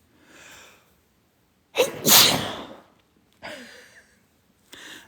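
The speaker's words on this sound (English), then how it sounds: "There I sneezed." A single loud, sharp human sneeze close to the microphone, preceded by a soft intake of breath and followed by a couple of quieter sniffs and breaths in a quiet room.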